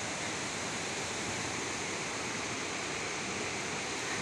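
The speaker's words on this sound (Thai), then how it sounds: "โอ้เสียงน้ำตก" A waterfall on a natural stream roars as a dense, constant, steady wash of falling water, loud and close throughout with no voices.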